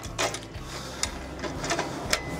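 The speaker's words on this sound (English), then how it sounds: "Unwind your winch with enough slack of the winch cable." A winch on a Cub Camper trailer pays out its cable in a short burst of mechanical whirring and ratcheting clicks, close and moderately loud, with no talk.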